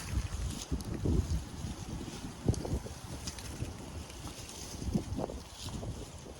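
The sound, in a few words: wind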